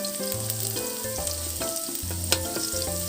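Garlic fries in reused tilapia oil in a pan, with a loud, close, continuous sizzle and stirring scrapes, no speech, and a steady tone mixed into the background.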